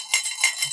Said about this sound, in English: Is the spare change cup too loud?